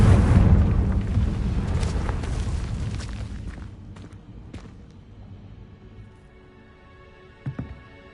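A Confringo spell blast in a video game bursts loud and broad at once, then rumbles and fades over several seconds, with a couple of faint thuds near the end.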